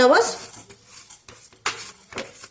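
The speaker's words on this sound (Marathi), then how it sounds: "जवस सुद्धा आपल्याला छान चटचट आवाज येईपर्यंत भाजून घ्यायचा आहे" Flaxseed dry-roasting in a pan, stirred with a utensil, giving scraping clatter and faint crackle in a few short bursts, fairly close and moderately loud.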